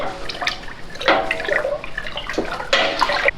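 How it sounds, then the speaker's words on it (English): Soda ash and water mixture being poured into a dye pot, heard as close, splashing bursts of liquid in several uneven pours with short pauses between them, no voices. "So I'm going to pour this in here and then use my stir spoon to make sure it's mixed"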